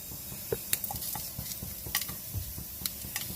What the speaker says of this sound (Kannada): ಸೊ ಒಣಮೆಣ್ಸಿಕಾಯಿ 4 ಹಾಕ್ಕೊಳ್ತೀನಿ. ಒಗ್ಗರಣೆಗೆ ಅಷ್ಟೇ ಇದು